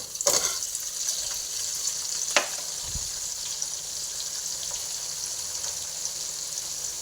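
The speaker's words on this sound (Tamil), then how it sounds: "இப்போ தக்காளி நல்லா வதங்கிருச்சு." Tomatoes sizzle softly in a pan for a fish curry, a faint steady frying hiss with a couple of brief clinks of utensils, no talk.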